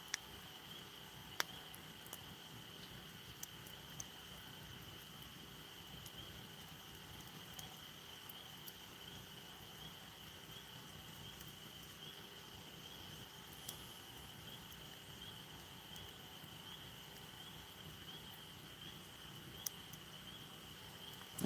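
Crickets chirping at night beside a bonfire, a steady, faint high trill running unbroken with occasional soft crackles and ticks from the fire.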